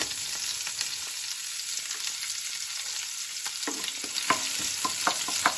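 Chopped garlic frying in a frying pan, a steady close sizzle with occasional stirring scrapes and taps against the pan.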